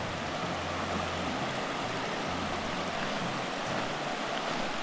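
Floodwater rushing over a submerged causeway, about five feet deep in the middle: a loud, continuous broadband roar of flowing water, close and steady throughout.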